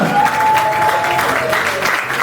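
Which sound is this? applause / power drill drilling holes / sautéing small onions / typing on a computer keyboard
applause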